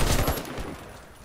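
MSBS Radon rifle firing in the shooter game Warface, a quick burst of loud automatic shots that fades out within about a second.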